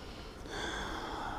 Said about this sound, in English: I'm gonna give it a little sniff